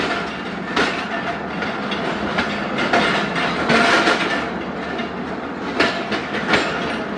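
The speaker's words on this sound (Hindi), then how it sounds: "2 मिनट के के बाद दोस्तों ट्रेन रवाना हो चुकी है सादिकाबाद रेलवे स्टेशन से।" Zakariya Express passenger train pulling out of Sadiqabad railway station, a steady heavy rumble with rhythmic clickety-clack of wheels over rail joints, loud and close throughout, no voices.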